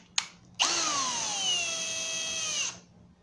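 A power drill drives a screw to fix a plastic leg into 18 mm melamine furniture board: a brief click, then a steady close whine of about two seconds whose pitch sags slightly under load before cutting off.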